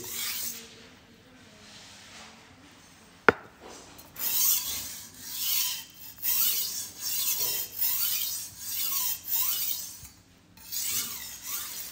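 A blade scrapes rhythmically across a natural 1000-grit whetstone in repeated gritty strokes, steady and close, after a sharp click at the start.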